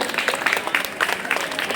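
An audience at a school Teachers Day celebration applauds a student, giving a short burst of dense, steady clapping from a crowd that fills the room.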